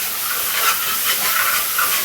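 Curry paste for chicken tikka masala sizzles in a hot pan, giving a loud, close, continuous hiss and spitting with no voices.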